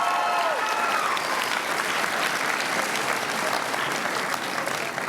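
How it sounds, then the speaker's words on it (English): Loud, sustained clapping from a graduation crowd honoring students, a dense continuous roar of many hands, with a brief whistle near the start. "So you all give them a big round of applause for their work."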